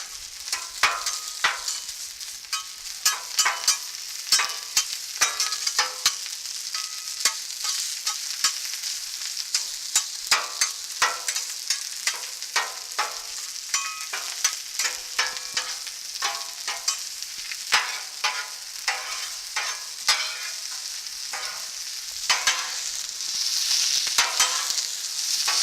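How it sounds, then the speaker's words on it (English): Brisket and stir-fry noodles sizzle on a Blackstone griddle, a bright steady hiss broken by many rapid clicking spatula scrapes and taps as the noodles are broken up, close and without voices. "We're going to get our stir fry noodles over here. We're going to get them broke up"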